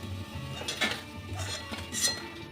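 Light metallic clinks of a utensil against a pan as fried dhoka, lentil-style fritters made with cabbage and peas, are lifted out of the oil, a few sharp close taps at an uneven pace with no talking.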